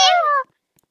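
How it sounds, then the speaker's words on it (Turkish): A single short, bright cat meow from the Roblox Brookhaven video game, close and loud, followed by near silence. "Aha. Kedi."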